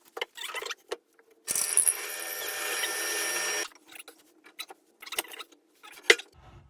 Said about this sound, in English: Remember, I've got 24 of these holes to drill.